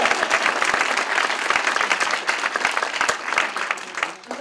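Audience applause fills a community gardeners' gathering, steady dense clapping from a crowd lasting several seconds with no talk over it.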